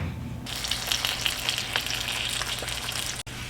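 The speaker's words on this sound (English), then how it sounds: "I'm going to just kind of pan fry them first" Meat sizzles and spits steadily in a pan of hot lard, a loud continuous frying hiss heard up close with no talking.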